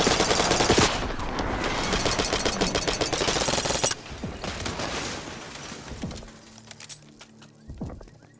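Call of Duty Black Ops 6 gunfire: rapid automatic bursts crackling loudly for several seconds, then fading into scattered shots and quieter sounds.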